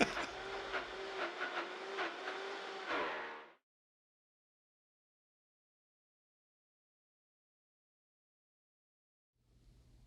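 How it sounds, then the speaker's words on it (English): A Vitamix blender gives a loud, harsh motor growl with strong tonal whine for about three and a half seconds, cuts off into silence, then starts faintly again at the end. "The Vitamix Growl has become iconic with all Vitamix machines and is very normal"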